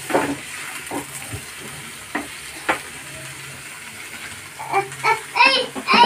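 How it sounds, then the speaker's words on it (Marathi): Fenugreek leaves lightly frying in a pan for a Maharashtrian garlic methi dish, a soft sizzle with scattered stirring scrapes that grows busier and louder toward the end. "मेथी टाकते, थोडीशी हलकी भाजून घेते मेथी।"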